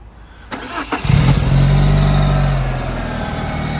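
A couple of clicks, then an Alfa Romeo 145 Cloverleaf engine cranks and catches, settling into a steady, loud idle rumble close by.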